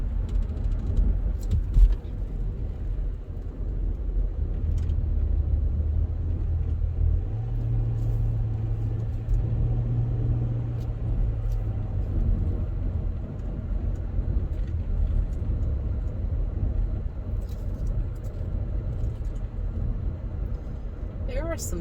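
Steady low road rumble and engine drone fill the cabin of a moving car, a continuous interior hum with faint rattles, while a person talks over it.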